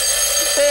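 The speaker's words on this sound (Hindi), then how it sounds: "ये क्या, अलार्म बज गया, सुबह हो गई" A cartoon alarm clock rings in a loud, shrill, sustained electronic tone that shifts pitch near the end, with no speech.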